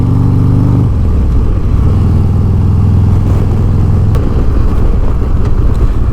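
A 2022 Harley-Davidson Road Glide Special motorcycle rumbles steadily and loudly close by while being ridden, its deep low engine note shifting pitch once early on, with no talk over it.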